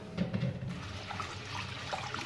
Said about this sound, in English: The first water throw very fast